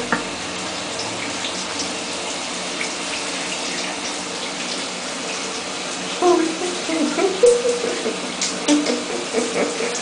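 Shower water runs continuously in a steady, close hiss and splatter, with brief louder splashing and a short voice sound near the end.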